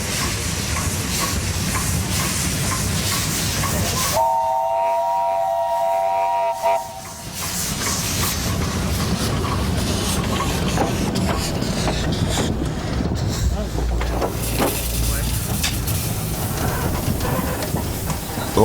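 A narrow gauge Mallet steam logging locomotive in France sounds a clear, steady whistle for a few seconds, set between long stretches of loud, continuous steam hiss.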